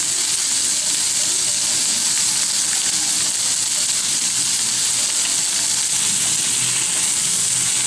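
Potato masala for poori frying lightly in a pan gives a steady, even hiss of sizzling oil, continuous and close with no pauses or voices.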